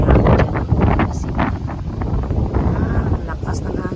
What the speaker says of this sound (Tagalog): lakas ng hangin. Ang lamig. Parang amihan kasi ganito daw ang hangin kapag amihan.